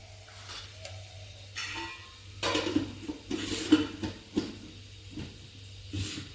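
Salt, chili powder and turmeric hitting hot oil in a kitchen pan give short bursts of sizzling mixed with clinking utensils and stirring, fairly close and moderately loud, with no talking.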